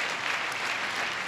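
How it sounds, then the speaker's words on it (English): An audience claps steadily together, a dense, even wash of applause that holds throughout without voices over it. "Clap for Jesus"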